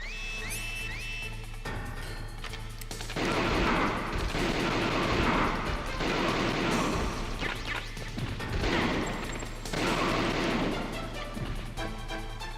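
Loud bursts of gunfire in rapid volleys, several clustered shots and crashes rising over a constant low rumble, with a quieter stretch between the louder barrages.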